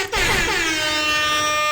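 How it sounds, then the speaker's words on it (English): Air horn sound effect blaring as one loud, sustained honk for nearly two seconds, alone and up close. "Air horn for sure."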